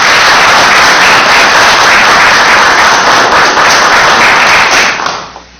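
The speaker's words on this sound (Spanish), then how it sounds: "Recibámoslo pues con un fuerte voto de aplauso" Loud, dense applause from an auditorium audience welcoming a lecturer at a commemoration of the Battle of Junín, sustained clapping that fades out at the end.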